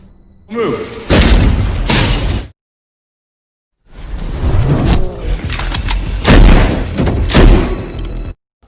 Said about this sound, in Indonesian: tubuh Welles meledak dengan 2 tembakan dari Art